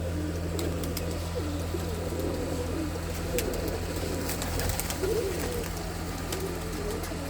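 Pigeons coo softly and steadily against a constant low hum, with occasional faint chirps and clicks scattered over the recording.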